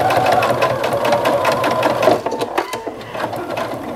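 Home sewing machine stitching a cornhusk pot holder, loud and close, a steady fast mechanical chatter that slows and stops near the corner before running again, with no talking.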